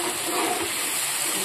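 Water pouring into a pan of fried spices, a short, steady close rush of liquid with a soft hiss.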